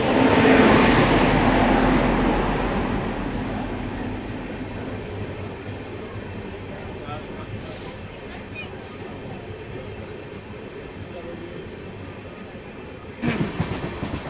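An express train hauled by a WG9 locomotive rushes past in the opposite direction, a loud roar at first that fades into a steady rumble of rolling wagons, with a brief knock near the end.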